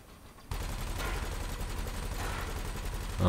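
Ship weapons in the space game Elite: Dangerous fire in a rapid, continuous mechanical burst that starts suddenly after a quiet moment and keeps rattling steadily, swelling louder right at the end.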